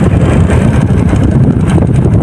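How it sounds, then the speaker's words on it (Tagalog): Strong wind buffets the microphone with loud, continuous rumbling gusts, filling the clip without any talking. "Uy, lakas ng hangin."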